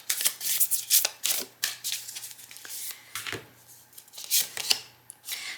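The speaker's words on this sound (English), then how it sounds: "I just have the ancestor cards here from this deck, and I'm just going to kind of give them a little shuffle" A deck of tarot ancestor cards being shuffled by hand, close and crisp: repeated papery riffles and slaps in irregular bursts, with quiet pauses between, no talk.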